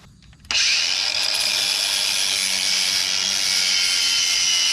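A flap disc on a power grinder spins up and runs steadily on an Isuzu Trooper SUV during repair work, a loud continuous high whine starting abruptly after a brief pause and holding without talk.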